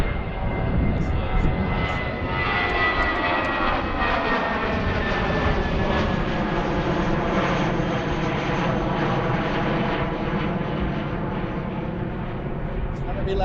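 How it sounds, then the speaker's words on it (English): A jet airliner, an Airbus A319, takes off from Philadelphia airport, a loud continuous engine roar with whining tones that sweeps steadily across the whole stretch, with a person talking faintly beneath it. "Sounds like the A319 is taking off."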